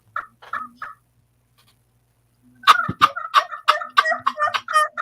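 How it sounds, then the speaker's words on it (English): Backyard hens call out in short bursts, a few clucks first, then a pause before a loud, rapid series of squawking, gobble-like calls close by, with no voices. "Dadgum hens back out in the backyard."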